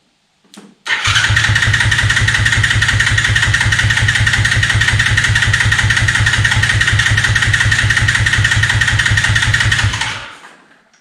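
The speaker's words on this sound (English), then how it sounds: "so I enlarge the gap and now it's running" A Chinese 110cc ATV that had sat outside for a couple of years: a brief starter crank, then the engine catches and runs at a loud, steady, buzzing idle for about nine seconds before cutting off, with no talk.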